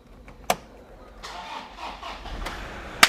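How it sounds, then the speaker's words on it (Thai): A used car's engine is started nearby: a sharp click, then about a second of cranking and catching, and another sharp click at the end. "เราสตาร์ทเครื่องให้เบิ่งบัด"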